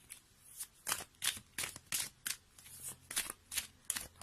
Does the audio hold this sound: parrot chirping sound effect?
no